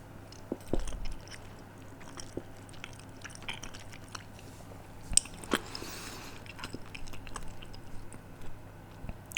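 A person eats salmon sashimi close to the microphone, with soft, wet chewing and squishing mouth sounds in a quiet setting and occasional sharper clicks and bites.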